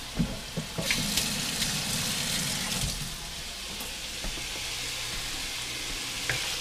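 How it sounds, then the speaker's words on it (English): Short rib pepper steak simmers toward a slight boil in a pan, a continuous sizzling hiss with a few sharp clicks and knocks early on, then a quieter, steady bubbling hiss with a low hum underneath. "Everything's coming up to like a slight boil"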